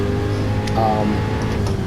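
A 2017 Nissan GT-R engine driving in a racing video game holds a steady, close droning note through its short run, with a brief higher whine rising partway through.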